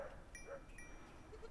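Goats bleat faintly at a distance outdoors, a few short calls scattered over a low rumbling background.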